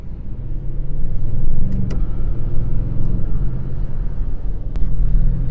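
Audi RS6 engine accelerating hard, a loud, close, steady rumbling growl with rising revs and a brief gear-change dip, heard alone without talk.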